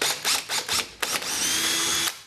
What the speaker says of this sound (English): there's a little indentation where you need to use your drill